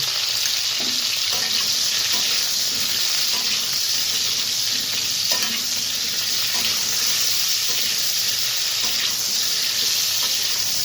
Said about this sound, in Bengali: এর মধ্যে সামান্য লবণ, কাশ্মীরি লঙ্কার গুঁড়ো দিয়ে ভালোভাবে ভেজে নেব।